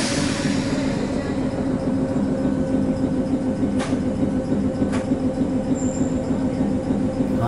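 An Omi Railway local electric train departs Sakuragawa Station, rumbling steadily nearby, its low engine drone and wheel noise continuous throughout, with a couple of brief sharp clicks along the way.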